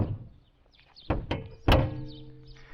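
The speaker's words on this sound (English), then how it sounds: "I'll just drop the bonnet just because it can be nice to hear these." The bonnet of a 1980s Toyota Corolla FX-GT hot hatch with a 4AGE engine is dropped shut, giving a soft thunk and then a louder, solid slam, each one sharp, close and alone.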